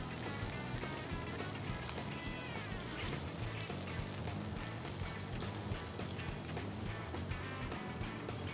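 Steak searing in a hot pan, a steady dense sizzle and crackle that fills the whole stretch at an even, fairly loud level, with no talking.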